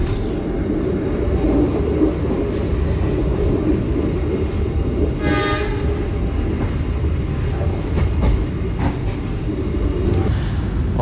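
The Logawa passenger train rolls steadily along the rails, a loud continuous rumble of wheels and carriage noise from inside the coach, with a brief higher rattle midway and no talk.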